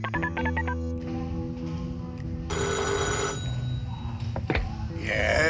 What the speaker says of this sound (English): placed a call using the speed dial on his cordless phone